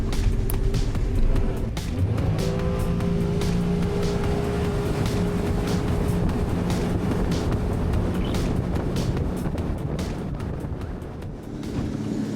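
A Highfield Velox 560 jet boat maneuvering on the water, its engine a steady broad roar with wind buffeting the microphone throughout, no talking.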